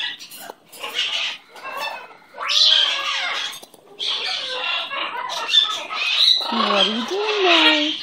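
A pet bird squawks, chirps and makes varied warbling calls in close, lively bursts with short pauses, loud and near throughout.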